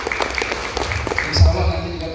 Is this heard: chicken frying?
no